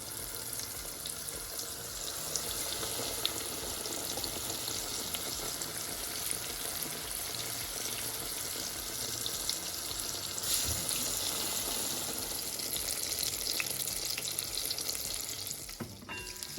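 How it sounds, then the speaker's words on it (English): Continuous loud sizzling of cod frying in hot oil for fish and chips, a dense crackling hiss that runs steadily throughout with no talking. "this is the end of the frying of my cod"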